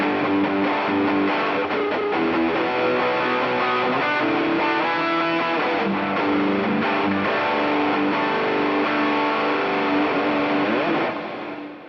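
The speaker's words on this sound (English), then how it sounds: "It doesn't sound bad for a distortion." An electric guitar plays through distortion into an Alexander Pedals Rewind programmable echo pedal, set full wet with no repeats and the dirt and tone all the way up, giving a loud, dense, sustained fuzzy tone that fades out at the end.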